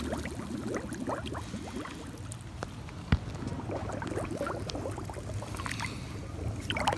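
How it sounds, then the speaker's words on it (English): Hayward Navigator pool cleaner pushed under the pool water to purge trapped air, giving a steady low gurgle of bubbling and splashing that carries on throughout, with one sharp knock partway through. "Go ahead and submerge this."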